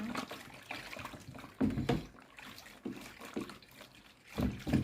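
Liquid dish soap mixture stirred in a container makes repeated sloshing swirls in bursts, close and fairly soft, with quiet gaps between strokes.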